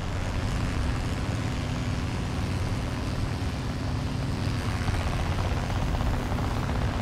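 A propeller aircraft in War Thunder ground realistic battles roars with a loud, continuous, broadband engine drone that stays steady and close throughout, with no talk.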